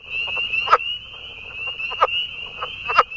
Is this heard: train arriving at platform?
no